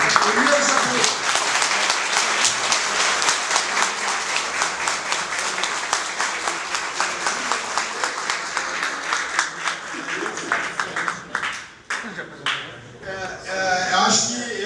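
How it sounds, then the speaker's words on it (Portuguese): An audience greets guest speaker Elias Jabbour with sustained applause, dense clapping that thins into scattered claps before fading, with voices picking up toward the end. "uma salva de palmas aqui para o nosso convidado, Elias Jabbour"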